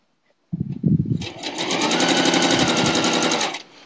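A sewing machine chain-pieces quilt pieces: after a brief handling rustle, the machine starts and runs in a fast, steady, close-up stitching rattle for about two seconds, then stops. No voices.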